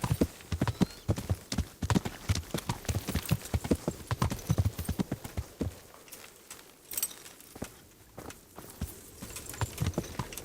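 Rapid hoof clip-clops from a horse in the video game Kingdom Come: Deliverance, a quick irregular clatter that eases briefly before picking up again.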